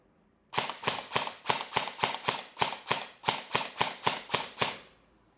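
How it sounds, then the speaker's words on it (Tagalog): Red-accented airsoft rifle firing in semi-auto, fourteen evenly spaced sharp cracking shots in quick succession, loud and close, with no talking. "So, try natin ang semi-auto."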